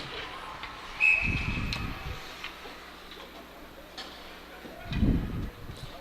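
A single short, shrill referee whistle blast stops play in a junior ice hockey game, cutting through low arena rumble and muffled crowd noise.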